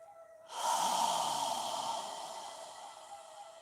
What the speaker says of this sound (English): exhale with control, allowing the air to flow from the back of your throat